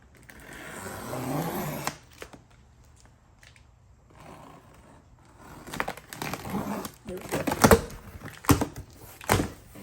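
A blade slices across the cardboard box of a Waver Mini whole body vibration exercise platform, producing a series of scraping, tearing cuts and rustles that grow louder toward the end after someone speaks briefly.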